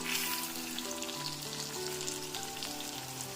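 Whole spices such as cumin, poppy seeds and coriander with curry leaves frying in oil for a curry-leaf mutton curry, giving a steady close sizzle that runs unbroken throughout with a faint tonal hum beneath and no voices.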